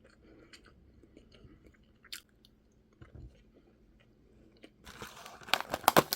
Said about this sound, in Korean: 지금 계란 먹어요